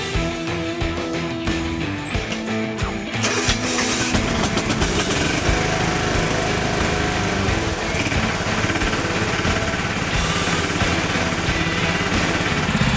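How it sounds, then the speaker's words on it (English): Older Kawasaki small engine cold starting in winter: a quick run of starter turns and sputters, then it catches and runs steadily with a loud, busy, rattling drone up close, including a backfire. "right after I said it was being really difficult to start, it started right up on the first try. It did backfire"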